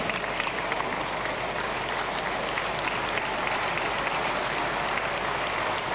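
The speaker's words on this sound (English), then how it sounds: "Stand up and give yourself a round of applause." Applause from a large standing audience at a 2024 convocation ceremony, dense and even clapping that continues steadily without voices.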